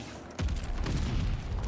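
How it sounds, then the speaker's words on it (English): A grenade explodes in Call of Duty Vanguard multiplayer, a sudden low boom partway in followed by a rumbling tail and scattered crackle. "Threw a grenade at me."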